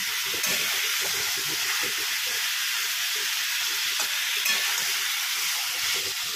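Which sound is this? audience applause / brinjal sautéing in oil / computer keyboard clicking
brinjal sautéing in oil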